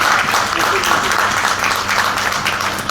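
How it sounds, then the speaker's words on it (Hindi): Continuous audience applause rings out at a health talk, a dense, even wash of many hands clapping throughout, fairly loud and close. "और तालियों का जोर चाहिए"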